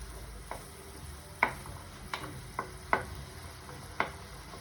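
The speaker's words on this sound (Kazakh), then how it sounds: "Ағаш қасықтан айналдырамыз." A wooden spoon stirs menemen in a pan over a soft sizzle, giving about six sharp scrapes and knocks at uneven intervals, close by, with no voices.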